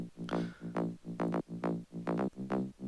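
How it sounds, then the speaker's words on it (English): Rolling synth bass in an electronica beat, tracing the root notes of each chord in a steady pulsing pattern of short repeated plucks, moderately loud with no voices. "For this one I choose a rolling bass that's following the root notes of every chord."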